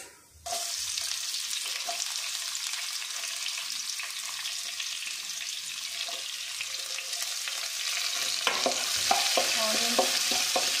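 Onions and chana dal frying in oil for upma, a steady close sizzle with occasional scraping stirs that grow busier toward the end, no voices.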